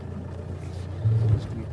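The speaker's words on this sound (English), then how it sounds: "Maneuver the vehicle" A safari vehicle engine rumbles steadily up close, its low drone briefly swelling louder, with people talking over it.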